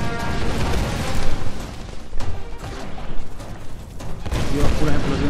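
Loud, chaotic bursts of explosions and crashing gunfire from the Tomb Raider Definitive Edition video game, dense rumbling blasts one after another over about five seconds.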